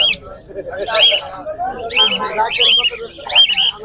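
Lutino cockatiels at a Mirpur bird market in Bangladesh, giving repeated shrill chirps and squawks in short bursts, close by, with people talking over them.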